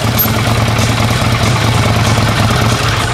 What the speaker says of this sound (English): Dual rear swept exhaust emit a mellow throbbing note